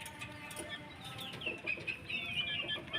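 Five-month-old chickens cluck in short, scattered bursts close by, with a few higher squawks over a soft, busy farmyard background and no talking.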